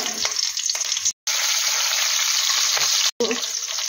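Whole garam masala and slit green chillies hit hot ghee with a loud, bright, continuous hiss that cuts out twice for a split second, then surges back, close up with no talking.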